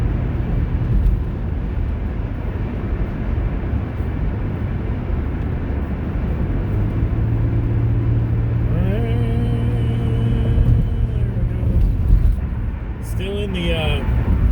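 A 2005 Toyota Sienna minivan cruising on a highway, with a steady loud road and engine rumble throughout and a continuous hum underneath, while a passing tone rises and falls near the end.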